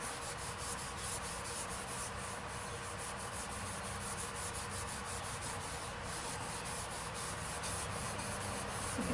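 A cloth rubs finish into a segmented cherry and walnut wooden bowl with a steady, continuous scrubbing hiss. The sound is close and even throughout, with no talking.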